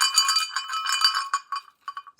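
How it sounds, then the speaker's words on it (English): Antique bell on a chunk of leather strap being shaken, a bright clanging jingle that rattles quickly, then thins into a few sparse, fading rings. "this is bell number 3."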